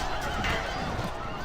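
Horses whinny and neigh amid clip-clopping hooves during a Rome: Total War battle, a short burst of loud, close equine cries over a dense battlefield din.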